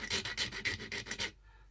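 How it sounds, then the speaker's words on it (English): A file rasps across the cut end of model railway track, several quick, close, scratchy back-and-forth strokes in an even rhythm that stop abruptly into quiet. "Just file any burrs off the ends of the track at both ends."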